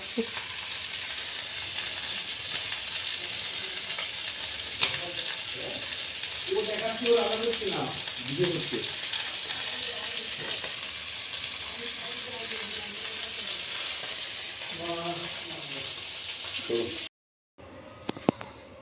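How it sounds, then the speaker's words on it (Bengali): Chicken fries in a pan alongside gravy, a steady close sizzle running throughout with a voice talking briefly over it before a short cut near the end. "দেখো এখন এটা চিকেন ফ্রাই হচ্ছে"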